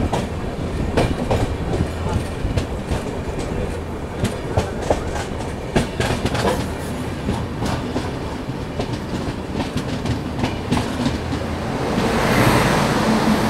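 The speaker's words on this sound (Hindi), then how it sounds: "यहाँ मुजफ्फरपुर आनंद विहार ट्रेन को हम ओवरटेक कर रहे हैं।" Inside the Vaishali Express, hauled by a WAG 9 locomotive, as it overtakes the Muzaffarpur Anand Vihar Express: a continuous loud rumble of rolling coaches with sharp, irregular clickety-clack wheel beats, swelling into a louder rush at the end.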